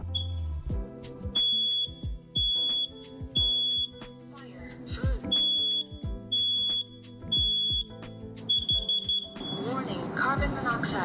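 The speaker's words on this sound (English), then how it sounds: "This is a carbon monoxide and smoke alarm combination alarm" A combination smoke and carbon monoxide alarm under test sounds repeated high-pitched beeps in regular bursts, separated by gaps with a voice speaking. Then a harsher, buzzing carbon monoxide alarm tone starts at the end.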